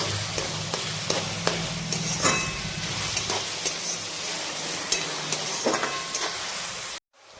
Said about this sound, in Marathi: अशा प्रकारे आपण हा सर्व कांदा चांगला परतून घेऊ लालसर होईपर्यंत।